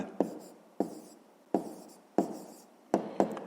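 Handwriting an answer to a fifth-grade maths exercise, a pen or chalk tapping and scratching in six short strokes at an uneven rhythm, close and fairly quiet with no talking.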